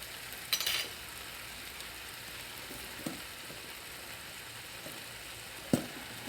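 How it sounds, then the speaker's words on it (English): Ghee, clarified butter, sizzles with onions in a pan, a soft steady hiss with a few brief clicks and scrapes of a utensil, no voices. "now we're going to add a couple tablespoons of ghee, which is clarified butter"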